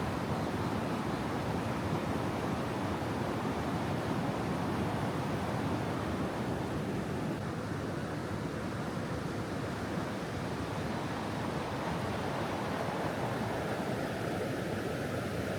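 Fast-flowing wild river rapids in a Vietnamese forest, a dense, steady rushing roar of water that stays loud and unbroken from start to end.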